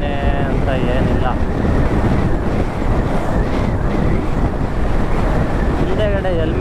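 Strong wind roars continuously across a helmet-mounted camera while riding a motorbike along the Vani Vilas Sagar (Mari Kanive) road, a loud, steady rushing buffet with engine rumble beneath and a voice briefly audible.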